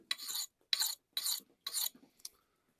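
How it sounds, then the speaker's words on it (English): A hand file rasps across an axe blade during sharpening in four slow, even strokes followed by a short final scrape, each stroke a bright, close grating sound with quiet pauses between. "Sharpening up my axes."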